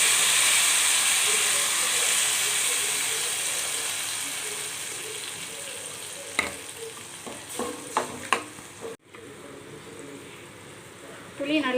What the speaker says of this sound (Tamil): இப்போ புளி ஊற்றிடலாம்.